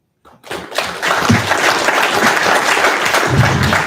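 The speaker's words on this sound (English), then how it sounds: "I think our panel deserves a real good round of applause." Applause for a candidate forum panel breaks out suddenly and swells into full, dense clapping from the audience, staying loud and steady to the end.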